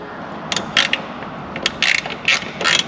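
A Phillips screw being backed out of a Toyota Tacoma's interior trim with a ratcheting screwdriver, a few short bursts of quick clicking separated by brief pauses, close and clear, with no talking.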